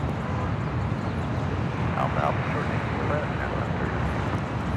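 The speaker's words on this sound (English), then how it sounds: "Next arrival on the north side, JetBlue Airways flight 879, coming in from Las Vegas on an A320." A JetBlue Airbus A320 arrives at Los Angeles International Airport from Las Vegas, its loud, steady roar filling the air without a break.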